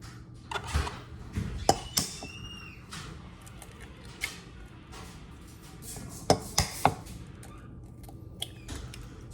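Knife slicing through an apple for a child's breakfast in a home kitchen, sharp chops and cuts scattered across a quiet room, a few clustered taps near the end, alongside faint clinks of dishes.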